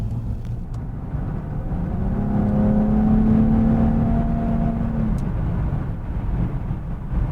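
A salvaged Nissan 350Z cruises at highway speed, a continuous engine and road drone with a rising then falling whine in the middle, steady and close from inside the car.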